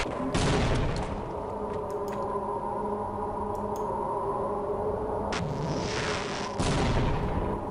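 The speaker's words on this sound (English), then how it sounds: "I'm just gonna grenade them" Grenade explosions and gunfire in the Half-Life: Blue Shift shooter game, a dense, loud barrage of blasts and rapid shots filling the scene, with sharp bursts near the start and end.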